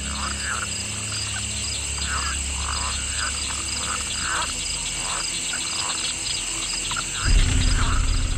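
A night chorus of swamp frogs and insects fills the air as a dense wall of sound: steady high insect trills layered with repeated rhythmic frog calls, then a low rumble rises near the end.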